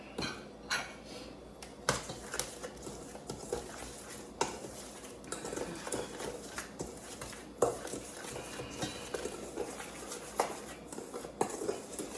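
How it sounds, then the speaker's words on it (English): Ground spices and garlic powder being stirred in a bowl, with steady scraping and clinking of a utensil against the bowl and occasional sharper knocks throughout. "I'm just literally mixing this in a bowl because the spices are already ground up"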